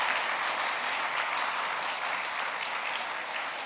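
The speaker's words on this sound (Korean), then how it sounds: "박수치며 격려하면 좋겠습니다" A church congregation at a Sunday afternoon service claps steadily to encourage the elementary department's teachers and children, a full, even wash of applause with no break for nearly four seconds.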